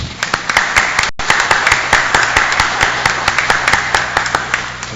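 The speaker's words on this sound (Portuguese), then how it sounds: "Maria Luísa Della Vecchia, a quem eu saúdo com uma salva de palmas." Applause from an audience at a public hearing on environment and quality of life, with sharp, uneven individual claps ringing out close by in a steady patter.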